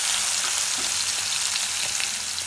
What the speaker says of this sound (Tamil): நல்லா எண்ணெயிலே ஃப்ரை பண்ணுங்க தக்காளியை